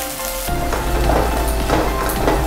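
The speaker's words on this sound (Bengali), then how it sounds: "মশলাটা একটু কষিয়ে নিয়েছি" Onion paste and ginger-garlic paste with whole spices fry in a wok, a steady close sizzle starting abruptly and holding with a soft crackle and occasional stirring scrapes.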